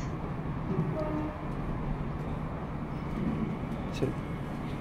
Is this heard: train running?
yes